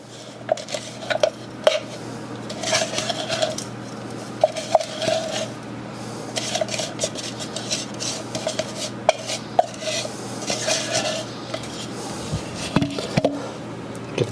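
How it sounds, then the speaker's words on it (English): Crisp pork rinds are stirred into Southern-style cornbread batter in a bowl, giving a steady run of scraping, clinking and soft wet mixing sounds for about fourteen seconds, close up with no talking. "those pork rinds that we had done earlier. I'm going to add those to our mixture"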